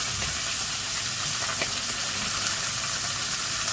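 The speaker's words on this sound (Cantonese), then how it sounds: "將啲紅衫魚放落去煮喺鑊度，" Golden threadfin bream pan-fries in a hot wok with oil and ginger slices, giving a steady, even sizzle and hiss that runs unbroken throughout, with no voices.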